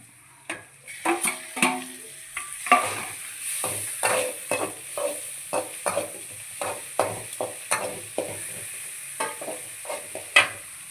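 Tomatoes sizzle steadily in a pan while a spoon scrapes and stirs in a regular rhythm, roughly twice a second, close up with no talking.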